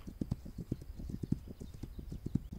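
Horse hooves clip-clopping in the video game This Land Is My Land, a steady run of close, regular thuds with an occasional faint whinny, alone with no talk.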